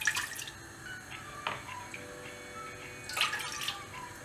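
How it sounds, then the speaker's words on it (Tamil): Water splashes and trickles into a pressure cooker in two short bursts, with faint drips between, close by and fairly quiet. "1/2 கப் தண்ணி ஆட் பண்ணிடலாம்"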